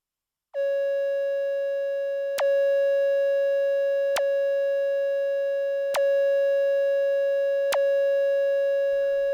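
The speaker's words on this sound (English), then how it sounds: "So let's just hear the DFAM oscillators on their own." Moog DFAM's first oscillator holding one steady constant-pitch tone, loud and alone, with a few faint clicks at regular intervals under the sustained note.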